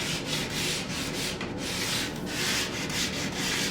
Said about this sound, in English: be careful on the edges, because it's really easy to sand through